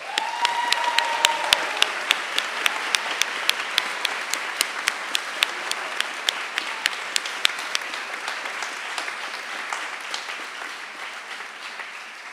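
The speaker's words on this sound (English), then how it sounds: "Please give them a round of applause" An audience at a medical school white coat ceremony applauds steadily, with a few sharp individual claps standing out early. The clapping thins and fades gradually over about twelve seconds.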